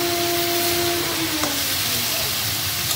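Okra frying in a pan with spice paste added: a loud, dense, continuous sizzle and steamy hiss close up, with no talking.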